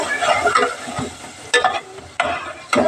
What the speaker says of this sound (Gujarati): શાકભાજીનો રગડો અને જો આપણે હલાવી નાખીએ અને હવે કડીક વાર ચડવા દઈએ